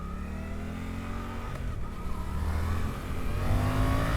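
A 2025 Suzuki GSX-8R parallel-twin sport motorcycle accelerates hard, a steady rising engine drone that grows louder toward the end, with no talking.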